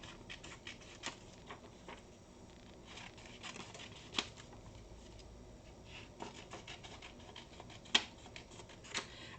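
Scissors trim a printed sublimation design on paper, giving quiet, close snips and rustles at an irregular pace with a few sharper cuts standing out, and no talk.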